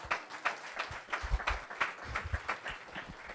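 A church congregation applauds during a French-English bilingual Sunday service, a loose, uneven patter of clapping with low thumps mixed in, moderately loud and steady throughout.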